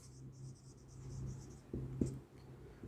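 Writing on a board during a physics lesson on Ohm's law and potential difference: quiet, close scratchy strokes in short bursts, ending with a couple of sharper taps.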